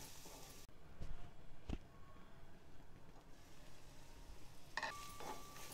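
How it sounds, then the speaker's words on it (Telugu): Snake gourd pieces fry in a pan while being stirred for a coconut fry, a faint steady sizzle with a few soft scraping stirs and clinks near the start and end. "ఇవి వేసుకొని ఒకసారి చక్కగా కలుపుకొని మూత పెట్టి కొంచెం వేగనివ్వాలి"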